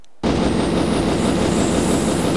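Train wheels run in the Train Simulator 2012 video game, a loud, dense, steady rumbling roar that starts abruptly after a moment of quiet and keeps going without a break.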